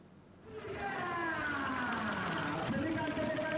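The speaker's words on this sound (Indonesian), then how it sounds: "ajang balapan di area berlumpur seperti sawah dengan menggunakan traktor" Tractor engines start up loud and stay revving in a muddy rice field during a harvest race in Magetan, East Java, with a strained, rising and falling drone and crowd noise behind.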